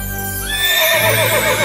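A horse neighs loudly and close in a children's Cinderella story, a rising whinny that fills the short moment on its own without any speech.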